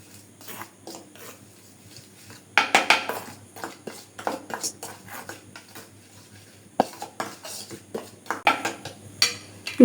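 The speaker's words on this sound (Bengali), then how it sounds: "এখন এটাকে ভালোভাবে গুলাই নিব।" A spoon mixes cornflour and oil into a batter in a bowl, with irregular clinks and scrapes against the bowl coming in quick clusters and pauses, close and clear.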